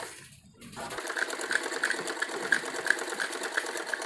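A sewing machine stitches the border of a salwar. After a brief quiet start it settles into a steady, rapid mechanical chatter with regular faint clicks, close and moderately loud, with no talk.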